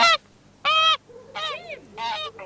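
A goose at a market honks loudly and close by, several harsh calls in a row with short gaps between them, and no talking over them.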